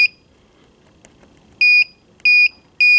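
The touch-control oven in a 2024 Dutchmen Colorado 360TH RV gives three short, evenly spaced electronic beeps, loud and clean over a quiet background.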